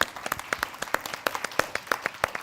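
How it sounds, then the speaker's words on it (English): A small audience at an art forum claps in a sparse, fairly quick rhythm with distinct individual claps, rather than dense roaring applause. "Will you please give a huge round of applause and thanks to everyone."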